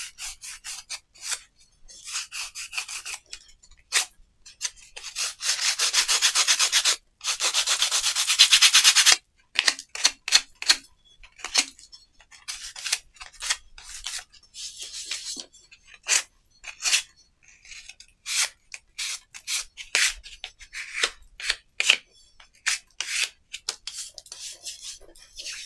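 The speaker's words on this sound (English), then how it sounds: "So we'll start as we mean to go on with the sanding." Hand sanding of an industrial-themed craft piece: close, dry rasping strokes in short bursts, with one longer sustained stretch of steady rubbing near the start, then quick irregular scrapes with brief pauses between them.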